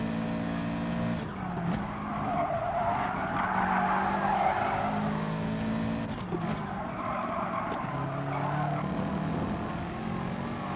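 Race cars at a race start in GT Sport: several engines roar together in a dense, continuous pack, revving and shifting, with tire squeal and skidding layered over the steady loud drone.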